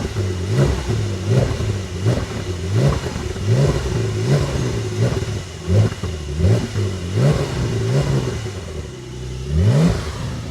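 A Brabus-tuned 2023 Porsche 911 Turbo S, rated 820 hp, revs repeatedly from outside the car, with a series of sharp throttle blips and pops rising and falling in a steady rhythm, loud and close, with no talk.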